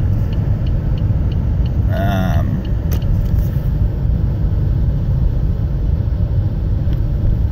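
A car engine idles roughly at around 600 to 700 RPM, a loud, steady low rumble that fills the whole clip, with a brief higher tonal whine partway through.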